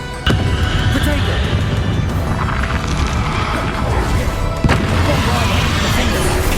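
Spell explosions in Hogwarts Legacy: two sharp booming blasts, one near the start and one later, rise out of a dense, loud wash of crackling combat noise.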